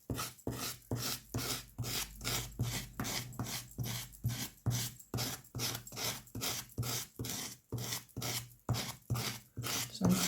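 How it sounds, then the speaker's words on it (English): A loaded scraper drags paint on and off book pages over and over, each gritty rasping stroke close and distinct in an even, brisk rhythm, with no voices. "so I'm scraping it on, then I'm scraping the grit away, a bit of paint on"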